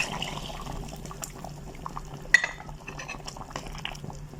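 Fresh milk pours into a pot of oatmeal and vegetable white soup, a soft trickling liquid stream with a brief clink of cookware midway, quiet and close.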